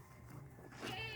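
A goat bleats nearby on a rural farm, one wavering cry rising out of faint outdoor background noise near the end.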